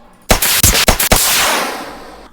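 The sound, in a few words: flare gun firing flares in the video game The Forest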